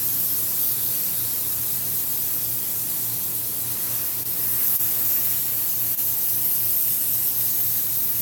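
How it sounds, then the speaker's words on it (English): An airbrush spraying paint onto mask fur, producing a steady, loud hiss of air and atomized paint that runs continuously and close without pause. "Painting it on with an airbrush."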